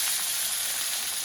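Pieces of fish fry in a pan, giving a steady, bright sizzling hiss close by with no voices.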